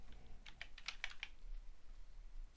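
A short burst of computer keyboard keystrokes enters a number into a spreadsheet cell, about half a dozen quick, crisp clicks close by, then quiet.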